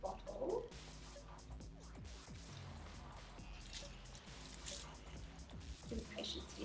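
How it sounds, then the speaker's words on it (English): Water drips and trickles from a handmade plastic jellyfish craft as it is eased into a water-filled bottle, small faint wet splashes and squishes close by under low background noise. "A bit of water's coming out, but that's okay"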